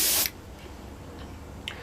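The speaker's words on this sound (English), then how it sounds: "a technique I use when I'm using an airbrush, I start the airbrush off the part" An Iwata airbrush sprays paint in one short, loud hissing burst at the very start, then cuts off to quiet room noise with a faint click near the end.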